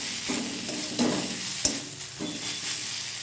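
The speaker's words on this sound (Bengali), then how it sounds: "কাঁচা লঙ্কাগুলো ভাজা ভাজা হওয়ার জন্য ছেড়ে দেবেন।" Green chillies fry in a pan while being stirred, a soft continuous sizzle broken by a few scraping stirs and one sharp clink, quiet and close with no talking.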